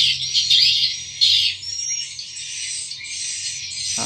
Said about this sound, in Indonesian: kami ingatkan untuk mengukur volume suara walet teman-teman ya